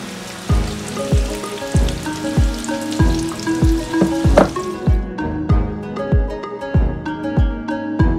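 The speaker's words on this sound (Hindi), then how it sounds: "मैंने यहाँ पे प्याज जो है ना वो तलने के लिए डाल दी है इसको बस ब्राउन करके निकालना है प्याज को" Onions frying in oil for mutton biryani, a steady sizzle and crackle with a repeating, rhythmic stirring or scraping beat throughout, close and fairly loud, no talking.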